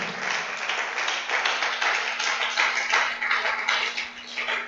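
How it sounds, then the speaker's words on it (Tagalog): A church congregation applauds together in dense, steady clapping that swells in gentle waves, loud and close, with a constant low hum underneath and no voices standing out. "Palakpak muli sa Diyos"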